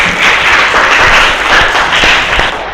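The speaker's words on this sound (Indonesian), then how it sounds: "Kita beri tepuk tangan untuk siswa." Students in a classroom applaud at the end of an arts lesson, a short burst of loud, close clapping from a small group, with a few sharp individual claps standing out.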